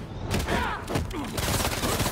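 Gunfire in the Spider-Man 2 video game, a dense continuous volley of rapid shots and booms filling the whole stretch, loud and close, with game sound layered over it.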